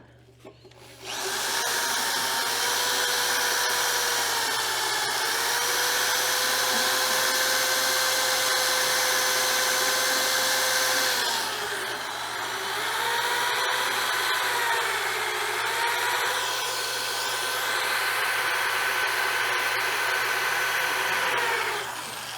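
A power drill runs steadily at a blacksmithing demonstration, giving a continuous loud whine that dips and rises in pitch a few times over about twenty seconds, with no voices.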